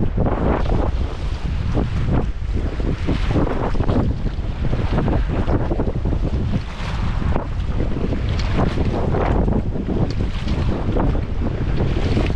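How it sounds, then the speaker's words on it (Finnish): A raft is paddled through the class 4 Aalakkokoski white-water rapids in Oulanka National Park, with continuous loud rushing water and wind buffeting the microphone, plus scattered splashes. "Ja nyt tarvitaan sitä tehokasta melontaa koko kosken ajan."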